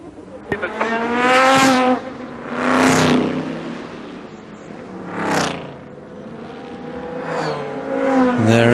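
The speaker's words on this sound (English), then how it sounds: "There is the number 6 car into the pits as well." A sports racing car at a 2006 American Le Mans Series event drives into the pits, its engine revving in repeated loud surges with brief lulls between, close by.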